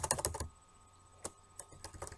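Typing on a computer keyboard: a quick run of close, crisp key clicks, a pause, one isolated press like a tab key, then another short burst of keystrokes in a quiet room.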